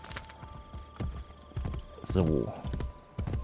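A horse in the video game Assassin's Creed Brotherhood clip-clops at a steady walk, with close, rhythmic hoofbeats and a whinny partway through. Someone speaks briefly over the sound.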